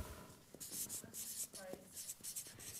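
A pen or marker scratches across a board in short bursts of strokes, close and quiet, with faint whispery breath around it.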